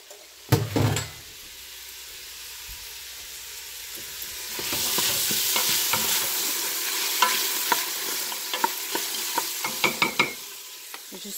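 Celery tipped into a pot for keto sausage lentil soup, starting with a few clattering knocks, then a steady sizzle of frying under repeated scraping and stirring strokes of a spoon.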